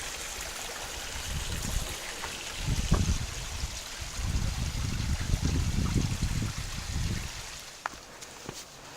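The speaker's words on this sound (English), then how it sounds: "You can hear the water trickling back there." Water trickles steadily in a stream beside a mountain hiking trail, a faint continuous wash of flowing water in the background with footsteps and outdoor movement nearby.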